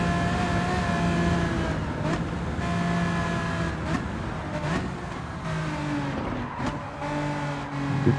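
Race cars in Gran Turismo 7 roaring past in quick succession, engines revving and shifting with brief tire noise, loud and close with a background music bed.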